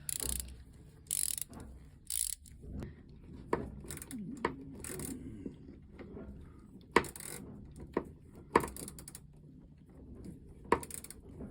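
A small ratchet wrench loosening a clamp makes scattered clicks and short ratcheting bursts up close, with bumps and rubbing between the turns and a little quiet talk.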